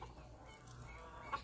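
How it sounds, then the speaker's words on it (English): Faint chicken clucking, a couple of soft short clucks near the end over a quiet outdoor background. "I still have a few chickens out running around."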